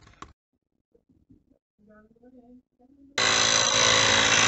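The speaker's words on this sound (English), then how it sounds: "Battery operated digital tire inflator." A battery-operated digital tire inflator switches on after a few quiet moments of faint sounds and then runs with a loud, steady buzzing drone.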